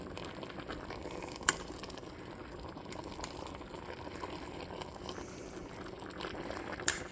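Onions cooking down in a big soup pot, a quiet, steady bubbling simmer with two faint clicks, soft and close with no voices.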